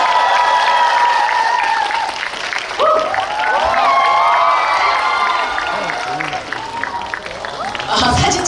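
A cinema audience at a CGV stage greeting for the film Ansiseong applauds and cheers loudly as its actors and director step onstage. Dense, sustained clapping is mixed with shrill fan squeals and whoops, with a fresh surge near the end.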